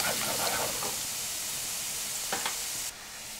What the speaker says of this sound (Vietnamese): Cho 2 muỗng canh dầu vào chảo. Cho vào 1 muỗng canh tỏi băm. Phi lên.